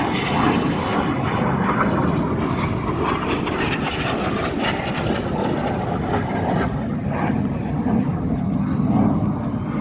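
Red Arrows jets flying at an airshow: a continuous, loud broadband roar of jet engines that holds steady throughout, with no talking.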